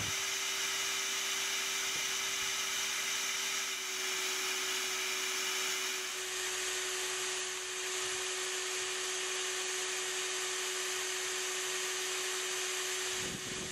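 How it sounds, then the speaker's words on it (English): A vacuum runs with a steady, continuous whine and rushing airflow, sucking bees out of a wall void during a removal, holding a constant tone throughout with no talk. "we're going to go ahead and start vacuuming some bees and getting our numbers down."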